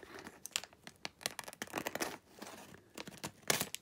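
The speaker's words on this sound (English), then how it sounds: "I'm just gonna cut it open" Plastic packaging is cut open in a series of quick close crinkling, snipping and tearing bursts that come in an irregular rhythm.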